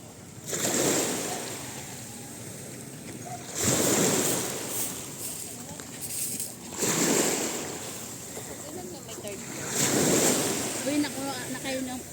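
Large ocean waves break on a beach shore in regular surges every few seconds, each crash swelling loud and then easing into a rushing wash, with wind buffeting the microphone.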